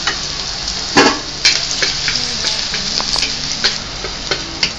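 Onions and tomatoes sauté in a pan for beef kaldereta, with a busy hissing sizzle and a few louder knocks and scrapes from stirring. No one talks.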